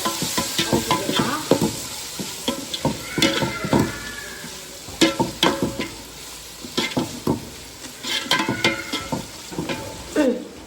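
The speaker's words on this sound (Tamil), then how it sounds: "இப்போ பார்த்தீங்கன்னா தக்காளி வெங்காயம் நல்லா வதங்கிட்டு" Tomatoes and onions sauté for a meat curry, with an uneven run of loud spoon-and-pan clatters and scrapes over a soft, constant sizzle, all close by.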